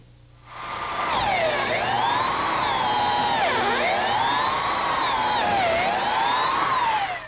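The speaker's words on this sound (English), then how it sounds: "drill a hole all the way through for the bolt" A power drill whines steadily for several seconds, its pitch sagging and recovering a few times as the bit bites into the material, loud and close.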